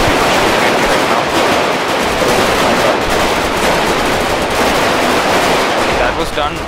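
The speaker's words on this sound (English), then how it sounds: "There's a lot of people shooting at me right now." Dense, continuous gunfire from several shooters in the video game GTA 5, loud rapid bursts overlapping with no break, with voices faintly mixed in.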